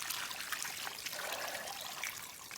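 Clean rinse water trickling and sloshing in a tumbler loaded with steel pins, a steady close wet splashing without pause.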